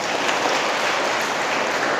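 An audience applauds with dense, continuous clapping, an even, full wash of hand claps with no pauses and no voices on top.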